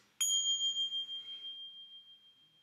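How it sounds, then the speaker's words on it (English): A single meditation bell is struck once, ringing out clear and bright, its pure tone slowly fading with a gentle shimmer in near silence. "the next magical or kind of item that I like to use is meditation bells"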